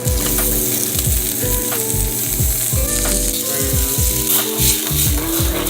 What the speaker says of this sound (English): Then with the butter, I'm gonna toss in some onions.